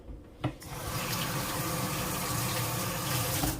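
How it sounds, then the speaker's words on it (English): A tap runs steadily while a mango is washed under it, giving a close, continuous gush of water after a brief knock at the start. "Wash the mango, guys."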